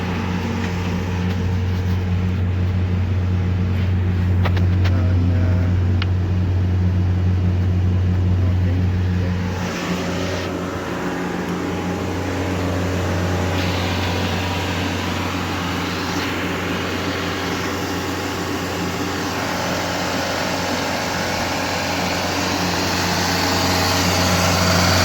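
A Ford diesel engine (Galaxy, Kuga or S-Max) holds steady at just under 3000 RPM during DPF regeneration with the bonnet open, giving a loud, continuous, close hum with a high whine over it.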